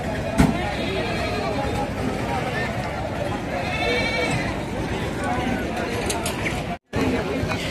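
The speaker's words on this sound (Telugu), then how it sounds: "ఇటు దిక్కు మొత్తం చెవుల మేకలు" Goats bleat repeatedly at a busy village livestock market, several calls rising over a murmur of crowd chatter and nearby talk.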